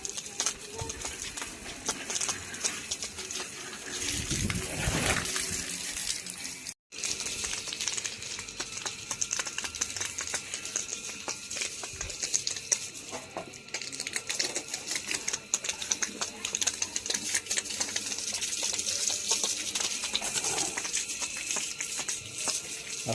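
Water is sprayed and gushes out in a continuous rushing hiss that stays fairly even throughout, with a rough crackling texture and one brief dropout partway through.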